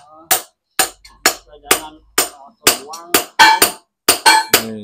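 Hammer blows ring out on steel being forged for a Balinese keris, about a dozen sharp metallic strikes in an uneven rhythm, close and loud, each ringing briefly before the next.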